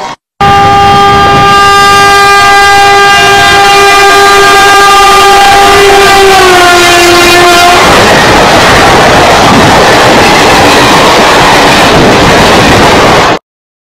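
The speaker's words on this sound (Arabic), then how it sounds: "القطار راهو جاي" A fast electric TGV-style train sounds a long, loud multi-tone horn for several seconds, then roars past close by with a broad rushing rail noise at a Tamanrasset station.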